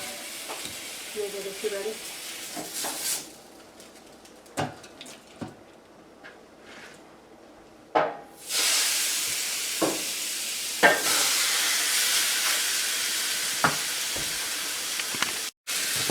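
Browned venison shanks hit a hot pan with a bright, loud sizzle that swells and stays steady, with scattered clatter and a brief spoken question near the start.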